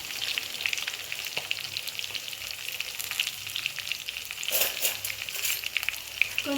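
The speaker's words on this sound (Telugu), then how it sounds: "ఎల్లిపాయ బ్రౌనిష్ వచ్చేదాకా వేగనివ్వాలి" Onions fry in a pan for an aloo tomato curry, with a soft, even sizzle and crackle that keeps going throughout and a few faint stirring scrapes, quiet and close, with no voices.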